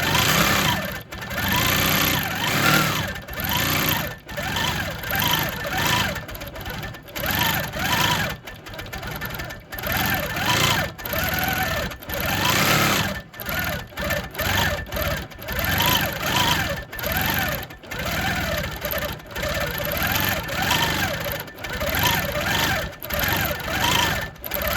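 Sewing machine free-motion quilting words, bursts of rapid stitching that stop and restart repeatedly with short pauses, loud and close.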